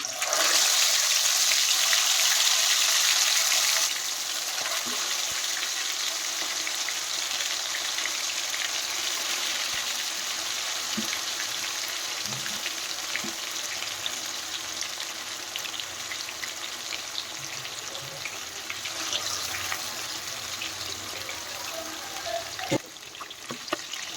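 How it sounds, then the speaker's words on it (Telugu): Chicken leg pieces deep-fry in hot oil with a steady, dense bubbling hiss, loudest in the first few seconds and then settling into a constant close sizzle with small pops. "ఇప్పుడు మనం లెగ్ పీసెస్ని ఆయిల్లో ఫ్రై చేసుకుందాం"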